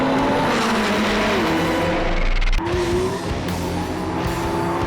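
McLaren P1 supercar driven hard, with a loud close engine note shifting pitch through gear changes and tire noise, no talk over it.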